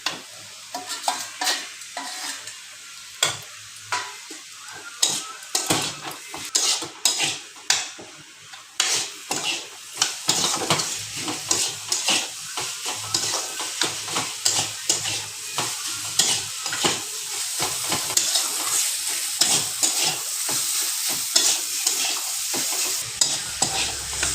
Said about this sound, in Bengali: এবার আমি এই আলু আর বেগুনটা দিয়ে দিচ্ছি।